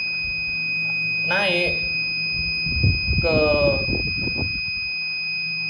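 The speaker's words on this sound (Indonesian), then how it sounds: "maka buzzer akan nyala sebagai indikator." A buzzer set off by a TDS water-quality sensor holds a steady, thin, high-pitched tone for the whole stretch, while a person speaks over it at close range.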